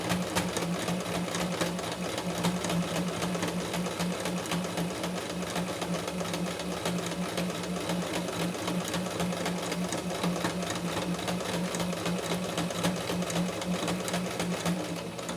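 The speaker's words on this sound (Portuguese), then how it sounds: "Desculpa a minha máquina barulhenta." A loud, noisy domestic sewing machine stitches a hem on a tea towel without pause, a dense, steady mechanical whirr and rapid needle clatter that fills the whole stretch up close.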